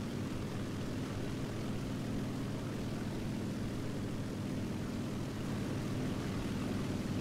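An Aichi D3A1 dive bomber's propeller engine in War Thunder drones steadily and loudly, a continuous rumbling roar with no breaks and no voices.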